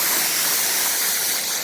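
A pressure-washer rinse sprays off car paint in a loud, continuous hiss of water, steady and close throughout with no voices.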